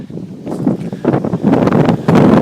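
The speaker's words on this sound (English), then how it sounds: "it's a windy day" Gusty wind buffets the microphone outdoors, a rough low roar that rises and falls in bursts, fairly loud throughout.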